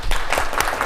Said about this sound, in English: I clapped because it was over